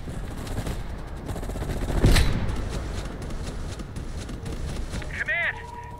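Dense gunfire from Call of Duty Black Ops, a Vietnam-era war game scene with allies pinned down on a ridge, rattling steadily as bursts of machine-gun and rifle fire with a louder blast midway, under game voices.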